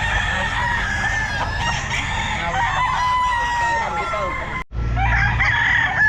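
Several roosters, a sweater stag among them, crow in drawn-out, overlapping calls amid the busy din of a pet market, with a brief break near the end before the crowing resumes.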